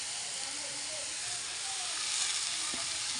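Dill greens (shepu) land in a pan of frying onion and moong dal, setting off a steady bright sizzle and hiss with a few soft clinks, while a voice talks faintly underneath.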